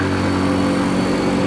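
A Primajasa bus roars under heavy load, its engine droning loud and steady at close range from inside the cabin while it overtakes on the road, with no voices heard.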